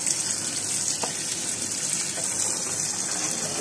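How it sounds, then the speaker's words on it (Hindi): Cold tap water pours steadily over boiled spaghetti in a strainer, a close, continuous gushing hiss with no voices. "हमें इसको कुछ देर तक ठंडा पानी गुजारते रहना है"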